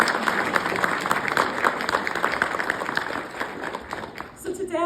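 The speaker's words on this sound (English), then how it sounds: "So let's take a moment and cheer for our young writers and artists." A crowd applauds young writers and artists, sustained dense clapping throughout, fading slightly near the end as a voice begins.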